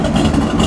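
A 1967 Plymouth Belvedere GTX with a 426 Hemi V8 idling close by, a steady, loud, low rumble that holds level without revving.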